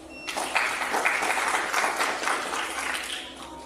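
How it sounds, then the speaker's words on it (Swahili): Audience applause at a Tanzanian mining-sector address, a steady wash of clapping from a crowd lasting a few seconds. "Tujipigie makofi."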